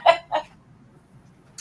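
Pet birds in a cage give two short clucking chirps close by, then fall quiet apart from faint background noise.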